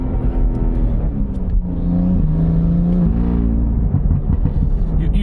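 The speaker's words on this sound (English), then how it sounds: "I have an aftermarket intake, and with the bonnet you definitely hear it more" A BMW M140i with an aftermarket intake and an M4 GTS bonnet drones loud and close from the cabin, its engine note sweeping up and down through several rev changes with a breathy intake roar underneath.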